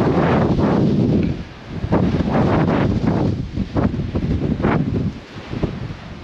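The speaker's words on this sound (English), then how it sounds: "Mother Nature is really trying her best to blow me over the edge of the cliffs, or at least snatch my GoPro out of my hand with gale force winds" Gale-force wind buffets the cliffs at Hartland Point in Devon, roaring in heavy, irregular gusts against a handheld camera microphone, loud and close with rumbling surges and brief lulls, with no talking.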